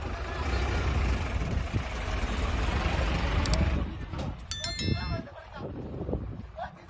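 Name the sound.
tractor engine driving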